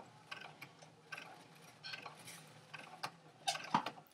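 A sewing machine stay stitching around a garment neckline runs with a faint, steady mechanical ticking and whir, a light, even rhythm with a few sharper clicks near the end and no talking.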